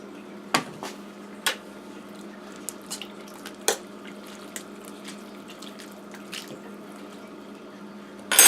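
Cooked ramen noodles and toppings are stirred and tossed in a bowl, giving faint wet squishes and occasional sharp clicks of utensils against the dish.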